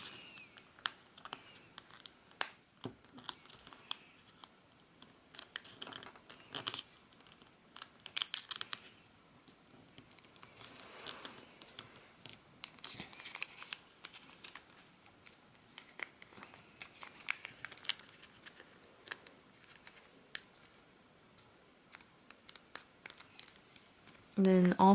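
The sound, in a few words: folding paper for an origami blow-and-spin top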